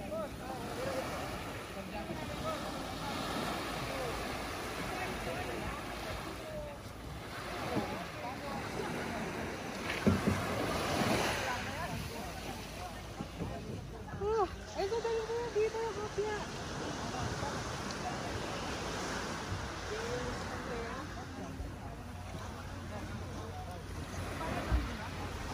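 Ocean waves wash onto a beach at a resort in Matnog, Sorsogon, a steady broad surf roar mixed with gusty wind buffeting the microphone, with faint voices in the background.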